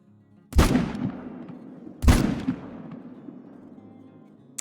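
Two loud, sharp rifle shots fired at a pronghorn in a hunting video game, about a second and a half apart, each followed by a long rolling echo that fades away.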